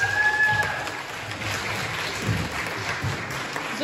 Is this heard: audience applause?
yes